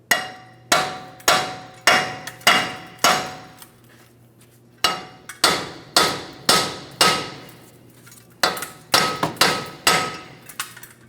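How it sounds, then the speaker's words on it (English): A hammer taps repeatedly on a wheel bearing hub to free it from the steering knuckle of a 2015-2025 Ford Transit 250, giving sharp metallic strikes in quick bursts with a short pause midway, close and loud. "So we're just going to carefully tap on this and breaking it free."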